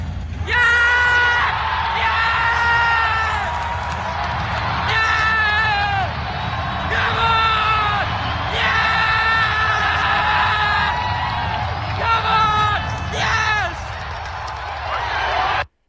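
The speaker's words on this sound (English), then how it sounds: "big reaction from the live crowd and from Kian by the sounds of it as well" A live wrestling crowd in Ireland roars and cheers for Sheamus, a loud, dense wall of voices with rising whoops and chant-like swells that persists throughout without a break.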